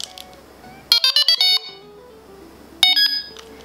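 A Delkim Txi-D fishing bite alarm being switched on gives a quick burst of five sharp electronic beeps, followed a moment later by a couple more loud tones, close and clear over quiet background.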